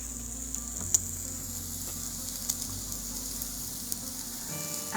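Steady, close sizzling of pork frying on a hot Thai barbecue grill, with occasional small pops and crackles and no talk.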